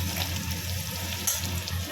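Green chillies fry in oil in a pan while a hilsa fish curry with potato and eggplant is cooked, giving a steady soft sizzle with a faint low hum beneath and no voices.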